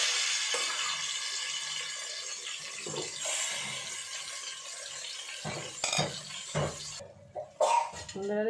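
Marinated chicken for biryani dropped into hot oil gives a continuous close sizzle and hiss, broken near the end by a few sharp stirring knocks and clatters.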